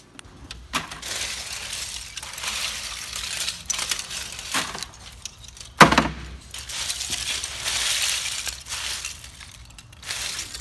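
Shredded printer scrap, mostly plastic with some copper wire, rattles and clatters along a recycling plant conveyor belt in a continuous gritty stream with scattered sharp clinks and one louder bang.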